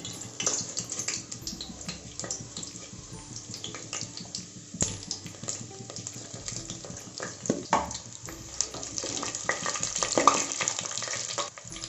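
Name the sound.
whole spices frying in oil for goat biryani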